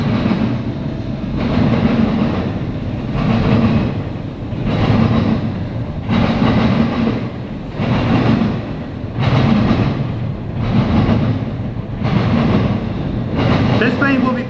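A CSX eastbound intermodal freight train rolls past close by in Marion, Ohio. Loud wheel and car noise pulses in a regular rhythm as each car goes by, heavy and continuous for the whole stretch.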